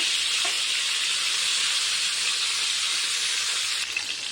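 Andhra-style spicy stuffed brinjals fry in a pan with oil, giving a loud, even, unbroken sizzling hiss heard up close without speech.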